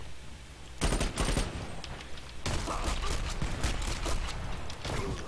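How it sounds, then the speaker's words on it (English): Video game gunfire in a first-person shooter, including revolver shots fired through a wall: dense bursts of rapid shots, loud and close, in two long volleys separated by a brief lull, with a voice faintly underneath. "apparently he shot me through the wall"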